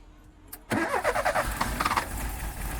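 An old, worn car's engine cranks, catches and fires up, settling into a rough, rumbling idle close by.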